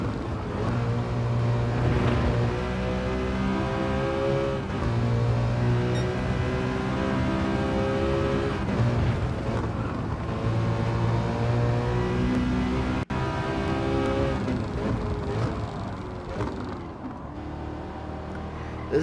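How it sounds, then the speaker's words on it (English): Citroen race car engine held at full throttle in Gran Turismo 7, a loud steady high-revving drone with harmonics climbing and dropping through gear changes, running continuously for the whole stretch with no talk. "Just full throttle racing the whole way."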